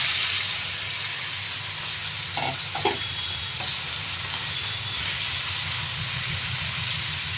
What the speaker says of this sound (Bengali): দেখুন আমার তেলটা মোটামুটি একটু গরম হয়ে গেছে, খুব বেশি ভাজবো না আমি। আর পুরো চিংড়িটাই আমি একবারে দিয়ে দেবো।